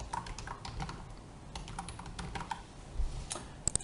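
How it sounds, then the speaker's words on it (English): Typing on a computer keyboard while entering data into a form, a quick burst of soft, close key clicks with small pauses, ending in a few sharper taps. "So I'm just going to type there"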